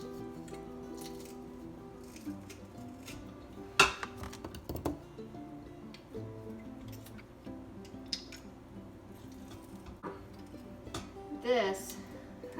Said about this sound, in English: I have a garlic press, so I'm just gonna pull it out and get that sauteed with the onions.